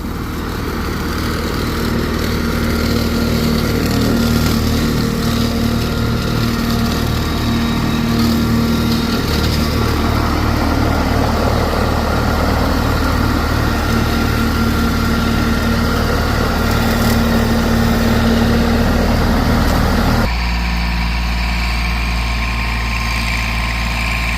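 A tractor engine running steadily with a brush cutter attached, a loud close drone that holds for about twenty seconds before shifting to a lower, smoother idle.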